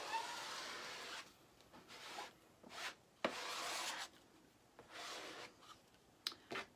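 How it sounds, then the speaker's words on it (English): A large squeegee drags paste across a sign in a series of soft scraping and rubbing strokes, close and quiet, with short pauses between passes and a voice briefly in the background. "There's very little waste when you use your large squeegee like this on a huge project."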